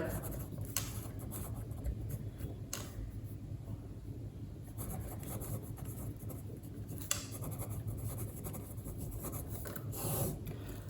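Pen or marker writing out a maths working for a linear equations lesson, quiet scratchy strokes in short repeated bursts over a steady low background hum.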